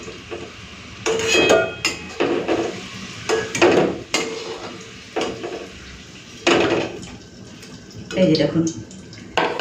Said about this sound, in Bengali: চলুন আলুগুলো এখন তেল থেকে তুলে নিই।